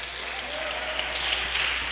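A church congregation claps together at the preacher's call, a steady burst of many hands applauding in a large room for about two seconds.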